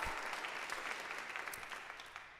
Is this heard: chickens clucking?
no